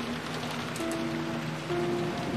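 Heavy rain from the visual novel game Umineko When They Cry pours steadily and loudly, a dense hiss with faint tonal background music underneath.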